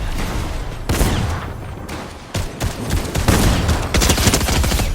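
Rapid automatic gunfire and bursts in the video game Fortnite, loud and dense, with repeated volleys and short pauses between them.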